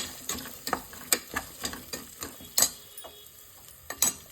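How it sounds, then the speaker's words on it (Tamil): Onions frying in oil in a pan for goat liver biryani, giving a steady soft sizzle broken by repeated scraping and stirring clicks from a spoon against the pan, close and alone with no talk. "நல்லா போட்டு கலர் மாற அளவுக்கு ஃப்ரை பண்ணிக்கணும்"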